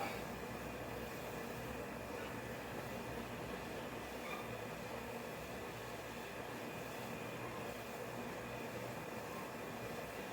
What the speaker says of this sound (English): There we go, heating up now, beginning to boil.